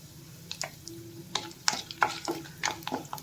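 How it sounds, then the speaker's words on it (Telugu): Two dried red chillies frying in hot oil with other tempering for idli upma, a soft sizzle broken by repeated scraping and clinking of a spoon stirring the pan, close and without talking. "ఇవి కొంచెం వేగిన తర్వాత ఎండుమిర్చి వేసుకోవాలి"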